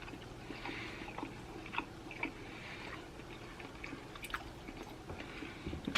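Someone chews salted steak, soft wet bites and smacking sounds coming close and quiet in irregular bursts over a low room background.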